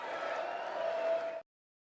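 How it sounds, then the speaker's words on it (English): Members of Congress applaud in the House chamber at the State of the Union, a dense, steady wash of many hands that cuts off abruptly after about a second and a half. "Republicans offered raucous applause over the course of the speech"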